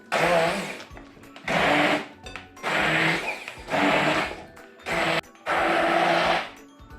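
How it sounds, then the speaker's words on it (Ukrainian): An immersion blender whirs loudly in six bursts of a few seconds each, its motor pitch shifting as it churns thick cheese curd, with short pauses between. "І тепер беру я погружний блендер"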